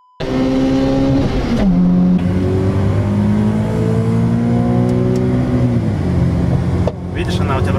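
A tuned VAZ 2112 (Lada 112) accelerates hard in a drag race on 17-inch wheels, its engine note climbing through the gears and bouncing off the rev limiter, loud and close, with people talking and shouting over it.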